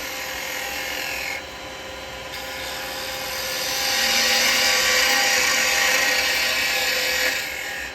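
Carbide chisel shaping an end-grain wooden pot spinning on a lathe, a steady broadband scraping whir that grows louder and harsher midway, continuous and close with no talk.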